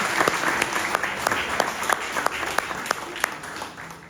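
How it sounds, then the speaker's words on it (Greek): An audience at a children's music show claps in a sparse, scattered rhythm, individual hand claps standing out over a steady background hiss, with little voice. "Σας ευχαριστώ για το αυθόρμητο χειροκρότημα."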